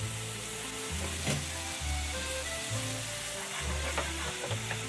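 Vetki fish frying in oil with tomato, salt and turmeric, stirred in the pan: a steady close sizzle with rhythmic scraping strokes of the spoon, no talking.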